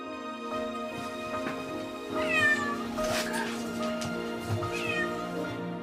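A cat stuck in a car wheel meows several times, loud and plaintive, over a steady background of tonal music or hum.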